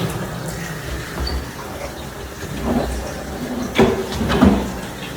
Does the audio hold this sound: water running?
yes